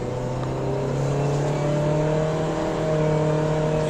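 Nissan Versa 2012 sedan with a continuously variable transmission climbing a hill, heard from inside as a steady, smoothly rising engine drone with no shift breaks, constant and fairly loud with no talking.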